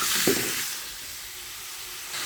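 Cucumber pieces sizzle in a hot pan with turmeric, salt and green chilies, a soft steady frying hiss with one small pop near the start, fairly faint and close, with no talk.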